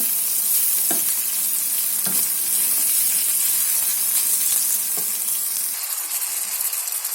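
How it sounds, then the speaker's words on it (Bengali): Onions frying in a pan for a Bangladeshi dried loitta fish bhuna, a steady close sizzle and hiss throughout with a few soft stirring knocks, no talking. "আর পেঁয়াজ ভেজে দিচ্ছি"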